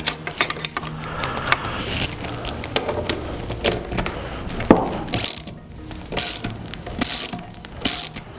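A ratchet wrench clicks rapidly as a bolt is turned on an AccuFlo ISD being rebuilt, close, uneven bursts of mechanical ticking with brief pauses and a few clanks.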